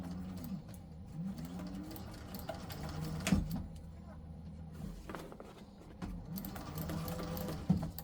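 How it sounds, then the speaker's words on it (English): A sewing machine backstitches a short stretch of seam on a handmade bag, a steady mechanical whirr with brief stops and restarts, fairly close, while a voice talks over it. "I backstitched real quick there, just for a little bit of stability at the seam."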